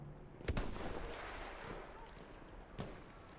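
Battlefield 1 combat plays out with a couple of sharp gunshot cracks against a faint background of game noise, and a person talks during the fighting.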